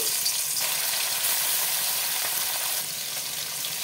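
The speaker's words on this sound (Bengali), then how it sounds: "তেলটা গরম হয়ে গেছে, মাছগুলো ভেজে নেব।" Fish fries in hot mustard oil in a heated pan, giving a steady, dense sizzle that holds at a constant level throughout with no talking.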